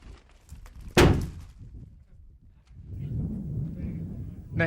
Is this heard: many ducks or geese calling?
no